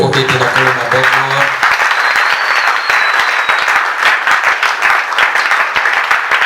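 A church congregation claps and cheers steadily, a dense, loud wash of applause that fills the room throughout, with a sung voice at the start and a faint shout later.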